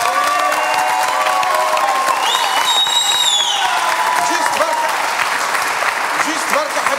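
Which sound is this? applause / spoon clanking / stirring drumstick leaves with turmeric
applause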